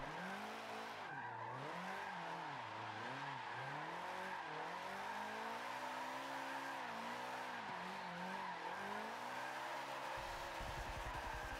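A Subaru BRZ drifting in Forza Motorsport 7 holds a steady engine note that rises and falls in pitch alongside continuous tire squeal, a dense unbroken sound throughout with no talking.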